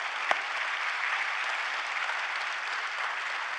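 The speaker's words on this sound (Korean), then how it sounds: "박수 영광을 돌리겠습니다." Congregation applause during a Sunday church service, a steady wash of clapping from many hands filling the room throughout, with one sharper clap near the start.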